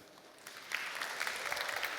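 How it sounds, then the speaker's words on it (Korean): An audience applauds after a talk at a conference session in Seoul. The clapping starts softly, swells into a steady, fairly distant patter and continues with no voices over it. "다시 한번 큰 박수 부탁드리도록 하겠습니다"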